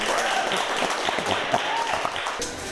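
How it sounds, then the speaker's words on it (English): An audience applauds at a hip-hop celebration for a group reaching one million streams, a dense, steady wash of clapping throughout with cheers and voices mixed in. "Give him a round of applause, please"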